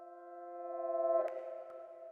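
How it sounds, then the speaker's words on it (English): Reversed piano notes pitched up an octave in a lofi beat production swell gradually in a steady sustained chord, then cut off in a soft smeared attack before a faint tail rings on, quiet and without speech. "render it as audio and pitch that piano sound up, and then reverse the piano notes into each other"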